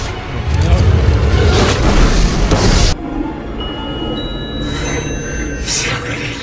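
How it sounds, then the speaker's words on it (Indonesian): A bomb explosion in The Mummy: Tomb of the Dragon Emperor sets off a snowy avalanche, heard as a loud, sustained rumbling roar that cuts off abruptly into quieter dramatic film sound, with a voice speaking over it. "Alex pun melemparkan bom untuk membuat salju longsor."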